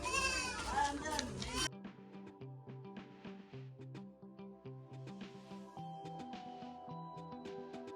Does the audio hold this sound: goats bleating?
yes